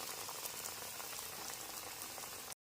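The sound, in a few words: bajji chillies frying in oil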